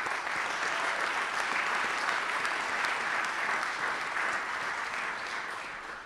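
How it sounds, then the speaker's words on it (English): Sustained audience applause fills a hall during a city address, a dense, even wash of many hands clapping that holds steady and tapers slightly toward the end, with no talk over it. "Let's give her a round of applause."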